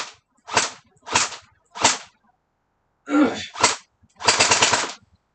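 Gel blaster firing gel balls at a hard wall, heard as a few sharp separate cracks followed by a short rapid burst, loud and close with silent gaps between shots.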